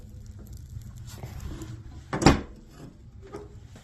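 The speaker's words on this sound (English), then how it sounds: "So you have these doors that you can open." A metallic creak and clunk as the small hinged doors of a wood stove swing open, with faint handling noises before and after.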